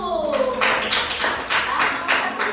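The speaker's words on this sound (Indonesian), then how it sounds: "kita kasih dulu tepuk tangan untuk kelompok 1." A small classroom group claps for a presenting team, a few loose, uneven claps and taps in a short burst, fairly close, with a teacher's voice audible at the start.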